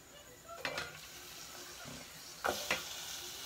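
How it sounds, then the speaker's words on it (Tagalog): Pork meat goes into sautéed onion and garlic in a rice cooker, giving two faint bursts of sizzling and stirring clatter over a low, steady background hiss. "Pwede na natin ilagay yung meat"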